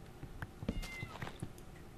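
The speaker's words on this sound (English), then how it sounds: "Oh, it's meowing at me." A cat in the Minecraft Technic modpack meows a few times, short, fairly clear calls spread across a quiet, slightly noisy game background.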